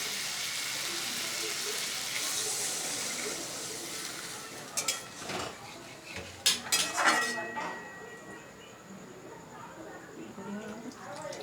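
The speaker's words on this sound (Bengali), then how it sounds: "এবার আমি জল দিয়ে দেবো।" Water poured into a pot of curry with potatoes and elephant foot yam, a broad rushing hiss that gives way to clanks and scrapes of a utensil against the pot, amid soft sizzling and a voice talking.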